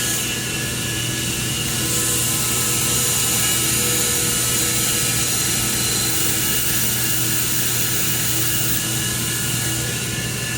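An air-cooled handheld laser welder runs during a demo, giving a steady, loud broadband hiss and whir with a fan-like drone and a faint tonal hum, continuous and unbroken, with no talking.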